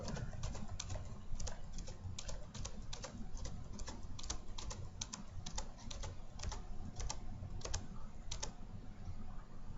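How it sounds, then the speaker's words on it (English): Keys on a computer keyboard click steadily and close by, a rapid run of taps as the down arrow and spacebar are pressed again and again, with no voices. "just pushing the down arrow with the keyboard and hitting spacebar"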